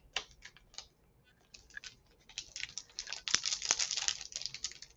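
Scissors snip and crinkle open a Tsuki no Ame sour ribbon candy package, a run of close, sharp crackling clicks and plastic rustles that grow louder and denser toward the end.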